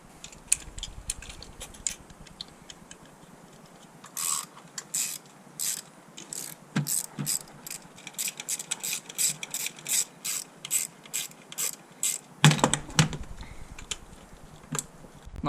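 A torque wrench tightening the valve cover bolts on a Nissan 350Z, with rapid ratcheting clicks in repeated bursts and short pauses between bolts, close and clear, with a louder clattering knock near the end.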